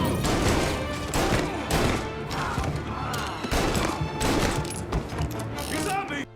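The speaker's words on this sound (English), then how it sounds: "the new revolver has a unique gun sound, and it sounds amazing" Rapid, loud revolver gunshots in the Mafia Definitive Edition video game, sharp booming cracks fired repeatedly over a dense layer of in-game combat noise and other gunfire, with a voice briefly audible beneath.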